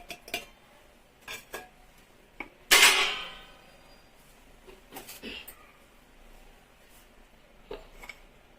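Ragi flour being mixed in a bowl, with sparse light clinks of a utensil against the bowl and one sharper scraping clatter between quiet pauses.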